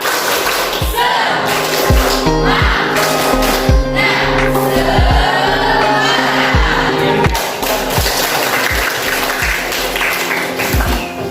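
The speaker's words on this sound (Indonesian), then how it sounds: "Ice breakingnya tepuk semangat" A classroom of students performing a rhythmic clapping icebreaker called tepuk semangat, loud group claps landing in patterned bursts with pauses and a few table thumps, voices chanting along between beats.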